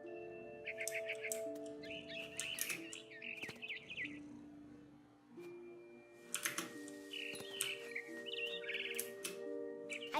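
Game birds chirp and tweet in What Remains of Edith Finch, with bursts of short calls over a steady layer of sustained ambient music tones.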